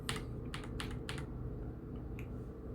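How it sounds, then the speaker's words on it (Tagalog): Typing on a Royal Kludge S98 mechanical keyboard with Chartreuse switches: a handful of crisp, close key clacks in an irregular rhythm, heard alone with no talking. "Usually sa bagong keyboard, i-test natin lahat ng buttons."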